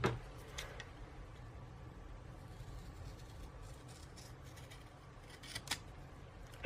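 Scissors trim a strip of washi tape in a planner, giving a few faint, sharp snips spaced apart over a quiet, soft background hum.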